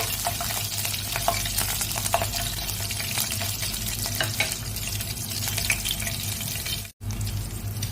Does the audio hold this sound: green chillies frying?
yes